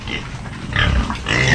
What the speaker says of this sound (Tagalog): At itong mga baboy.